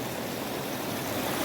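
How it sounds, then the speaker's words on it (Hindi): A Himalayan river flowing steadily, a dense, continuous rushing wash of water that stays even and close throughout with no voices. "लोगों के प्यास बुझाती हुई यह नदी बहती रहती है।"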